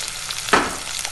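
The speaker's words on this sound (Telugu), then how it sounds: "మీడియం ఫ్లేమ్లో ఉంచి బ్రౌన్ కలర్ వచ్చే వరకు ఫ్రై చేసుకోవాలి" Onion and green chillies fry in a pan over a medium flame, a steady crackling sizzle with one brief louder burst of stirring near the middle, no voices.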